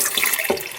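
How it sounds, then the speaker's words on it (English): Water pours steadily from a tap into a single-serving Baja Bob's Mudslide cocktail mix, a continuous close splashing stream with a brief change in tone near the end and no talk. "First we're gonna add 4 ounces of water."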